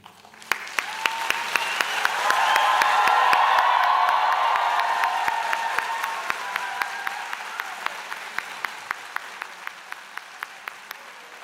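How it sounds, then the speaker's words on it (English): A large convocation crowd applauds steadily, swelling then gradually thinning out, with scattered cheers and sharp individual claps standing out near the end. "this will bring a big round of cheers and applause"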